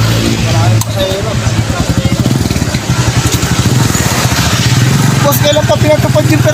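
A motorized tricycle engine runs close by with a loud, steady, rapid putter throughout, while people talk nearby.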